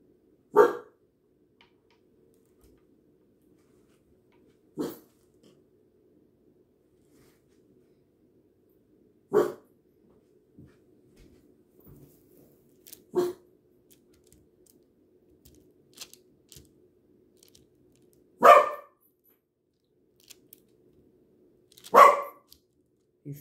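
A dog barks in single sharp bursts, about six of them spaced several seconds apart, with quiet stretches in between.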